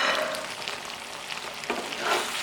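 Pasta with green onions and tomatoes is stirred in a hot pan, a steady sizzle with occasional scraping strokes, close and moderately loud.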